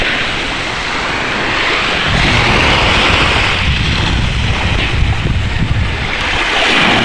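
Waves wash in steadily on a sandy beach, a broad rushing surge that swells and recedes, with wind buffeting the microphone throughout.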